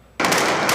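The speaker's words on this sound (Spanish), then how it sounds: "Con disparos al aire, los rebeldes islamistas sirios celebraron la caída de Bashar al-Assad." A burst of gunfire shot into the air in Syria during a celebration erupts after a brief quiet and runs as a dense, loud, continuous crackle of rapid reports.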